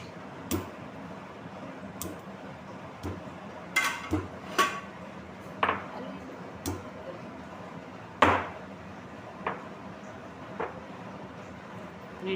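Garlic and other ingredients pounded by hand in a home kitchen while making corn chips and boondi, giving a series of sharp, separate knocks at an irregular, unhurried pace, fairly close and moderately loud.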